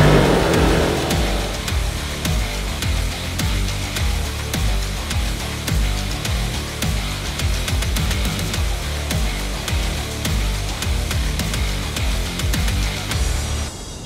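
An off-road vehicle rides the forest trails of Sawyer County in northern Wisconsin, its engine droning loud and steady throughout with rhythmic revving pulses and no talk.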